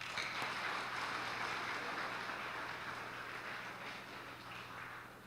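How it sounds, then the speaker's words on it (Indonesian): Congregation applauding during a church worship service at a theological college in Makassar, a steady wash of many hands clapping at moderate distance that slowly tapers over several seconds, with a low electrical hum underneath and no speech. "Tepuk tangan untuk itu, saudara."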